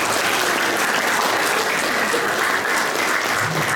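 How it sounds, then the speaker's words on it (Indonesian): An audience at a Islamic junior high school ninth-grade thanksgiving event applauds the event committee, loud, dense, continuous clapping from a large crowd close by, with no talk over it. "Aplaus untuk semua panitia."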